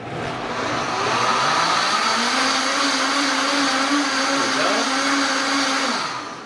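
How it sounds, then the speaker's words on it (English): A Vitamix blender motor roars steadily at high speed, its pitch dipping slightly as it labors, then winding down at the end. "the Vitamix is not happy"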